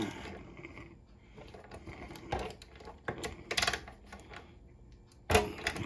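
Ratcheting clicks from a 7/16 inch socket wrench loosening nuts on a Fuji turbine motor assembly, coming in short irregular bursts with a sharper clatter near the end, close and fairly loud.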